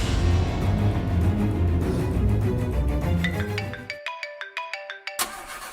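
A mobile phone rings for an incoming call, its melodic ringtone notes rising out of background music and then repeating clearly alone in a quick, even pattern.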